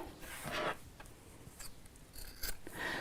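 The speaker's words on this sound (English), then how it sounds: "And then snip off the excess cord." Scissors snip off excess piping cord for a cushion cover in a few quiet, close cuts spread over a few seconds.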